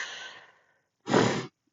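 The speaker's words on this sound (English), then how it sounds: "Let's take a couple deep breaths here." A deep breath during a floor stretch in an exercise class: a long soft exhale trails away, then after a pause a louder, fuller breath rushes in for about half a second, close and alone.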